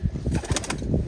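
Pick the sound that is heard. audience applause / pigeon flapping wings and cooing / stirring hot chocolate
pigeon flapping wings and cooing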